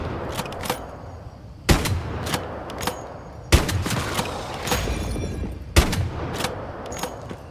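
Bursts of gunfire from the video game Once Human, with four sharp, loud shot clusters a couple of seconds apart over a rumbling game ambience, and no talking.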